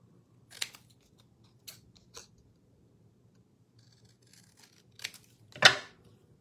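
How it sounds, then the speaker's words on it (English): A few sharp snips of scissors cutting card for a shopping box card, heard as isolated clicks spread over several seconds, with the last cut loudest and closest. "I am going to just snip"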